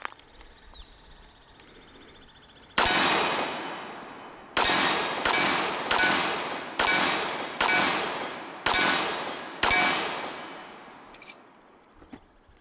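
A SIG Sauer Select 1911 pistol fires a magazine: eight sharp, loud shots with ringing decay, the first after a quiet pause, then seven in a quick, slightly uneven rhythm before silence returns.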